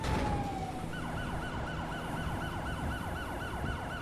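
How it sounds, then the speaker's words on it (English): A police siren in the LSPDFR plugin for a police video game cycles through its tones, with rapid rising and falling wails repeating steadily at moderate volume over low road and engine rumble. "you just heard the siren cycle tones back there"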